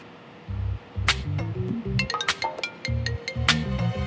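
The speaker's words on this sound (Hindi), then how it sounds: "बैंक वालों का फोन है" A phone rings with a repeating electronic melody of short tonal bursts, fairly loud and close, in a Hindi TV drama scene, with no talk.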